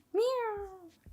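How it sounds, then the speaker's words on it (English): One long meow from a male cat, loud and close, sliding down in pitch over about a second, with soft knocks just after it. "if you can hear him, that's Seek meowing in the background"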